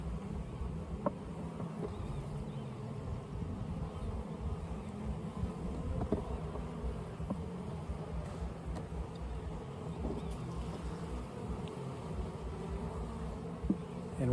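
A honey bee colony at its hive, its nest expanding across the frames: a continuous low, dense buzzing hum that holds steady throughout, with faint scattered clicks and no voices.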